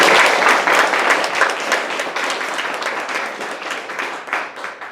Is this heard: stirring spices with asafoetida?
no